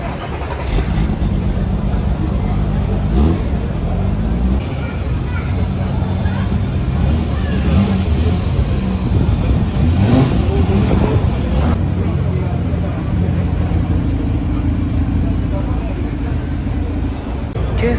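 An MPM Motors car at a street car meet revs its engine in repeated loud, rough bursts over a steady idle, with people talking nearby throughout.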